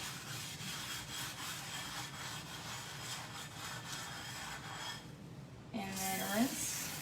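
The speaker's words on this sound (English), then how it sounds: "I'm just going to go ahead and use my Speary Net, one of my favorite go-tos, to scrub this off real quick." Cutting board scrubbed with a Norwex Spiry Net: steady close rubbing and scouring strokes, fairly quiet, ending with a brief clatter.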